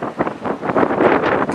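Gusty wind at sea under gale conditions buffets the microphone aboard a Halmatic 30 sailboat in uneven bursts, rising and falling over a couple of seconds with no voices.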